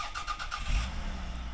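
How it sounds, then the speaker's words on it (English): Small sporty car pulls away, its engine rumbling low and briefly revving as it drives off at moderate distance, heard alone with no talking. "She's going off to work in her little sporty sports car."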